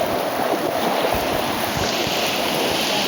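Swollen river in Umej village, Una taluka, rushing after heavy rain and overflowing its banks; a steady, loud wash of flowing water fills the whole stretch without a break.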